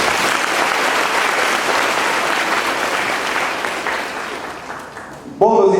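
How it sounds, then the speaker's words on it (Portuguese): A church congregation applauds steadily after a scripture reading, dense clapping that slowly thins and fades before a voice begins speaking at the very end. "Vamos aplaudir a palavra de Deus."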